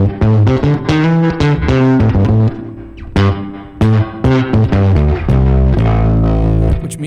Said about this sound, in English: the spring reverb does get some grit to it,